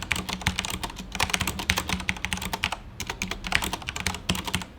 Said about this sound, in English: Here's a very quick sound test of the CM Storm Quickfire TK on the Cherry MX Brown switches.